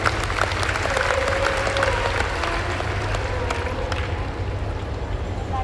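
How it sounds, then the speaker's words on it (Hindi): A crowd at a Shiv Mahapuran katha religious discourse in Mira Road, Mumbai applauds steadily throughout, a dense continuous wash of clapping with a faint sustained tone running underneath. "बाबा को जोरदार तालियां बजाकर"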